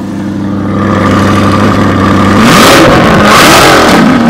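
A 2023 Chevrolet Corvette 2LT idles loudly up close with a steady low rumble, then the engine is revved hard, its pitch climbing and wavering through several surges.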